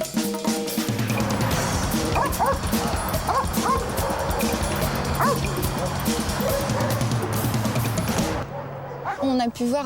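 Several dogs bark and yip busily through a working-dog training session, with whimpers among the barks and people talking throughout; the barking stops near the end.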